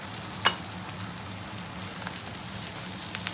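Onions frying in a cooking pot for a potato and eggplant curry, turning light brown, give a steady low sizzle with one sharp clink near the start and no voices.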